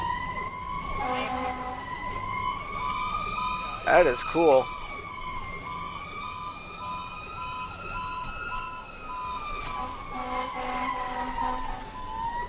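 A fire engine siren wails steadily and loudly in the Emergency 4 game with the West Falls Township mod, its rising and falling tone continuous throughout, with a brief burst of speech over it midway.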